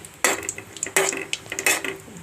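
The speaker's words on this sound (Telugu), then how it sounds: "గ్యాస్ వెలిగించి స్టవ్ వెలిగించి ఆయిల్ వేసాక జీడిపప్పు వేసేస్తాను." Cashew nuts drop into a pan of ghee on a gas stove: a few bright metallic clatters and clinks in quick succession, up close, with almost no sizzle.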